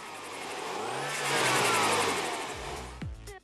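A Mini John Cooper Works with a sport exhaust revs up, the engine note swelling to a loud peak and then dropping away, heard up close with no voices.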